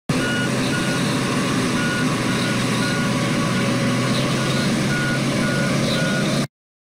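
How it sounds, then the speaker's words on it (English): A dump truck reverses, its backup alarm sounding a steady series of evenly spaced electronic beeps over a continuous loud diesel engine rumble, with no talk. "Dump truck."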